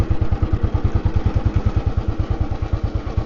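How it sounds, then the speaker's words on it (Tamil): A 2003 ex-army vintage Royal Enfield Bullet motorcycle pulls along in second gear, its single-cylinder engine thumping in a steady, rapid low beat, loud and close, with no voices over it. "வண்டியை வந்து செகண்ட் கியர்லேயே தான் ஓட்டிகிட்ருக்கேன்"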